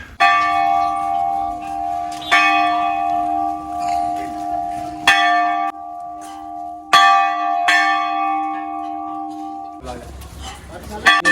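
Very large Hindu temple bells ring repeatedly at the Golu Devta temple in Uttarakhand, loud and close, each strike leaving a long metallic ring that overlaps the next, with crowd noise beneath.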